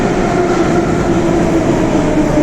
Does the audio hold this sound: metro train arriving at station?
yes